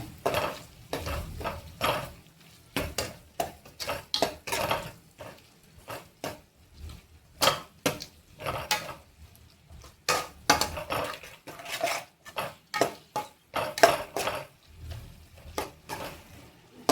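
Garlic and chili paste being stirred in a pan with onions and small bitter gourds, with a steady run of scraping, clattering spoon strokes against the pan and a faint sizzle underneath, close and fairly loud.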